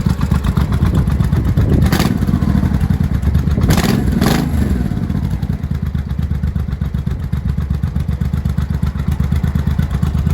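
A 1982 Yamaha Maxim 750 or 1983 Honda Shadow motorcycle from a barn find, idling loud and close with a steady rapid throbbing pulse and a few brief metallic clatters early on.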